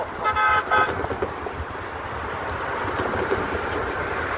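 A three-car train led by 2926, heading home on track 2, sounds a short horn blast near the start, then rumbles steadily past at moderate distance.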